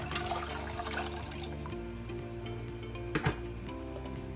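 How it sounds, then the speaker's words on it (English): About a cup of water pours into a pan for a pineapple and cherry ham glaze, a soft continuous splashing flow that fades after a couple of seconds into faint kitchen quiet. "we're going to chuck in"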